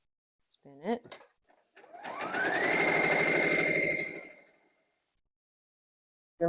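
A sewing machine runs a steady stitching line along a fabric wreath sash for about two seconds, then slows and stops. Brief handling noises come before it and a voice is heard at the very end.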